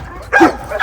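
A Belgian Malinois lets out two quick, loud, close barks in short succession, sharp yips with a brief gap between them.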